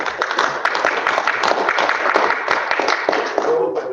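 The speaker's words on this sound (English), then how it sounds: "Please give her a round of applause." A room at a Board of Alders meeting breaks into applause, many hands clapping together in a dense, steady patter that lasts the full stretch and thins out near the end.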